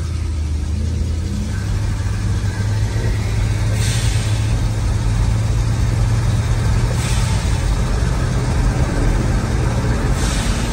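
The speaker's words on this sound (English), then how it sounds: "that noise is coming from a car next to me." Steady engine noise from a car idling alongside a parked 1966 Ford Country Sedan wagon, a continuous low rumble with a droning hum that holds level and fairly close throughout, with no voices.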